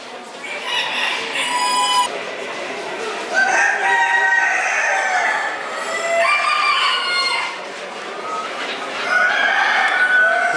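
Rose-combed Rhode Island Red bantam chickens crow and cluck steadily at close range, with several birds calling over one another in overlapping bursts and no talk.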